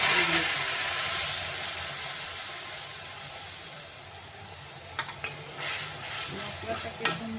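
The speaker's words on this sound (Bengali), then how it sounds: "মশলাটাকে সুন্দর করে ভেজে নেব" Ground spice paste fries in a hot pan, producing a loud, close hiss and sizzle that gradually settles. Toward the end come a few scraping stirs and clinks.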